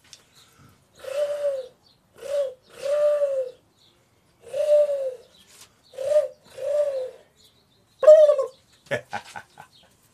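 Outdoors, a dove coos in a series of soft, evenly spaced calls, followed near the end by a few sharper chirps from other birds, with quiet gaps between.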